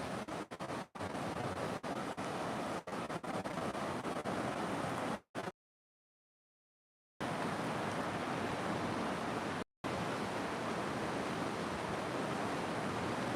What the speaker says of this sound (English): I love the sound of a river.